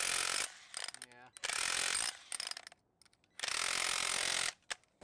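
A Milwaukee M12 cordless power hammer chisels into block in loud bursts of rapid hammering, three long runs separated by quieter pauses with clicks and rattles.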